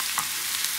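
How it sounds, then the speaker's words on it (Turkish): Thinly sliced mushrooms sauté in a pan, giving a steady close sizzle with faint stirring clicks, heard alone without voices. "mantarlarını ince ince doğrayıp ilave ettim. Bunlar bu şekilde kavrulacak"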